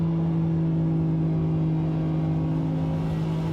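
A Ferrari engine holds a steady high-speed drone in the racing game Assetto Corsa, a loud, constant whine with little change in pitch throughout.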